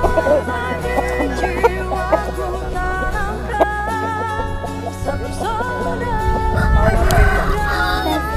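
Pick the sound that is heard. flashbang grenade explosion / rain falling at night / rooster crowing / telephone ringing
rooster crowing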